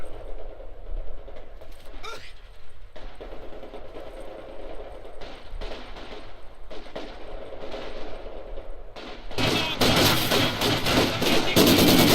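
Heavy machine gun fire in a real-time strategy battle game, with soft mechanical clatter giving way to a loud, dense burst of rapid automatic shots near the end.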